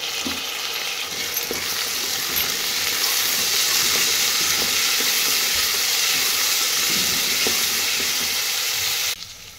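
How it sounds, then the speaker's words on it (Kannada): Peas and beans frying in hot oil give off a steady, dense sizzle with faint stirring scrapes, close and even throughout before cutting off abruptly near the end, with no voices. "ಈಗ ನೋಡ್ರಿ ವಟಾಣಿ ಮತ್ತು ಬೀನ್ಸ್ ಹಾಕಿದ್ದೀರಿ, ಅದು ಸ್ವಲ್ಪ ಫ್ರೈ ಮಾಡ್ಕೊಂಡೆ ಎಣ್ಣೆ ಒಳಗೆ"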